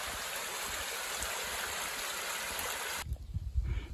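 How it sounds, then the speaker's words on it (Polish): A stream overflowing onto a meadow rushes and burbles steadily up close for about three seconds, then cuts off abruptly, leaving quieter low rumbling handling noise. "Strumień tu wylewa na łąkę."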